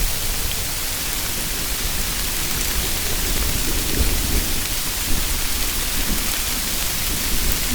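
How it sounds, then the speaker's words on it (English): Heavy rain pours down in open countryside with a low rumble of thunder rolling beneath the constant loud hiss of the downpour, steady and enveloping for several seconds, no talking. "Oh yeah, thunder."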